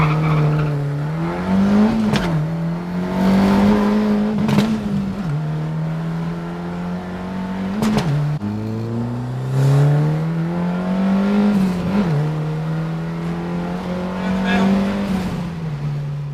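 A Mk1 Ford Escort with a Cosworth YB turbo engine, running on low boost, accelerating hard through the gears, heard from inside the car. The engine note climbs and drops at each shift, with brief tyre chirps and occasional talk.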